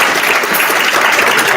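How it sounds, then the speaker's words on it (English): A lunch audience breaks into loud, dense applause that holds steady from start to finish, a close crowd clapping in a continuous wash with no voices on top. "Give a round of applause for that."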